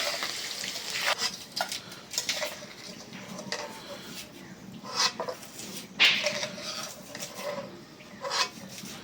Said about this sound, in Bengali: ডিমগুলি ভাজা হয়ে গেল, একটু কড়াইটা নামায় উঠাই।